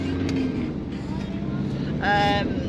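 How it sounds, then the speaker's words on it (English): Car driving along a country lane, with a steady low engine and road rumble throughout and a brief brighter whoosh near the end, while people talk over it. "we're driving through the country lane"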